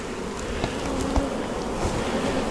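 Honeybees buzz in a dense, continuous drone at an opened hive during a June hive check, close and steady with a few faint knocks and handling sounds.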